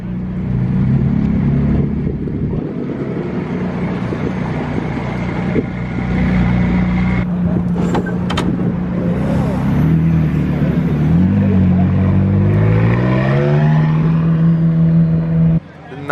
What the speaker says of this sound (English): a bunch of cars leaving right now